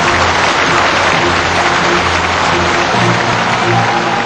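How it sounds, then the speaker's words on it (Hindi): Sustained applause from a large audience at a prime-ministerial swearing-in ceremony at Rashtrapati Bhavan, loud and dense, continuing without a break throughout. "इस दौरान तालियों के गड़गड़ाहट थमने का नाम नहीं ले रही थी।"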